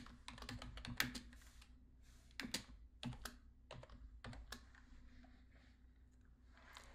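Keys clatter on a computer keyboard as a short section name is typed, a quick run of distinct clicks in bursts, fairly quiet and close, with no talking.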